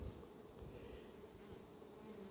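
Honey bees buzz around a hive colony during late-July winter preparation, a faint continuous droning hum with no voices.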